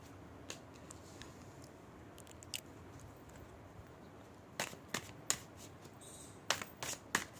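Cards being shuffled for a card reading make quiet, scattered riffles and flicks against a faint background. The sound is sparse at first and grows into denser bursts of snapping shuffles toward the end.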